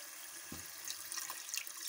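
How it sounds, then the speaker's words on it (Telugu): Strained tamarind broth is poured into a simmering fish curry, a brief faint splash and trickle of liquid that fades quickly. "వడపోసుకుని పెట్టుకున్న పులుసు వేసేద్దాం."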